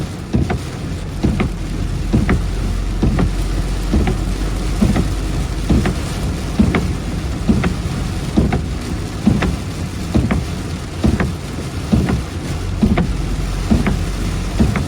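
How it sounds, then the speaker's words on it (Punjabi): Heavy rain pours steadily in a farming area in Punjab, a dense unbroken roar with wind, punctuated by regular rhythmic knocks or drips throughout. "ਇੰਨਾ ਮੀਂਹ ਆ"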